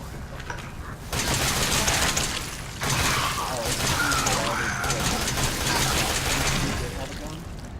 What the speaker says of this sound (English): We started with machine gun.